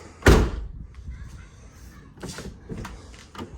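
A 1999-2004 Chevy Blazer door swings shut with a single loud, close slam near the start, followed by quieter clunks and handling noises of the freshly rehung door with its worn latch.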